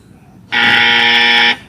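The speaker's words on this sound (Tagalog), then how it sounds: "ito na siya yung wrong buzzer sound effect" A single harsh electronic buzzer blares for about a second after a brief quiet moment, loud and flat, then cuts off abruptly.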